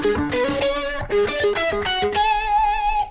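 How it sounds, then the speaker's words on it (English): Distorted electric guitar plays a pedal-tone lick from a scale, steady sustained notes with effects, loud and alone without talking. "I'll show you one cool scale that I used. It has some pedal tone licks in it."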